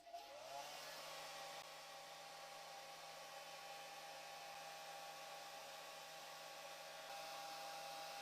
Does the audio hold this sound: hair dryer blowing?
yes